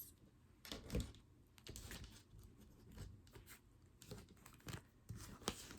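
A deck of tarot cards is cut, producing faint, soft clicks and papery taps that come in small irregular bursts in a quiet room.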